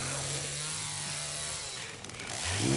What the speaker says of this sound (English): Put that chainsaw to good use.